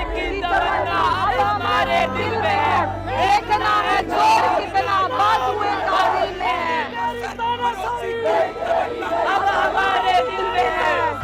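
A large, dense crowd of protesters at Jantar Mantar in Delhi fills the scene with continuous loud chatter and shouting voices, rising and falling with no pauses.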